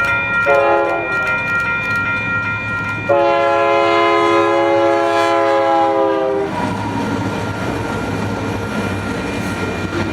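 A freight train passes with an AC44 locomotive leading, its K3LA horn sounding two loud, rich chords, the second held longer, over the steady rumble of the rolling train.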